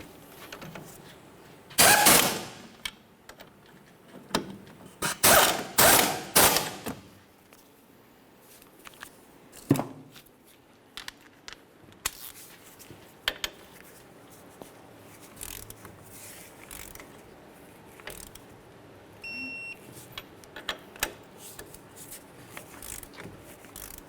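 A ratchet tightens the 18mm mounting nuts on a Chevrolet Cobalt CV axle in a garage. Several bursts of rapid clicking cranks come close and loud early on, then scattered clunks and lighter taps follow without speech.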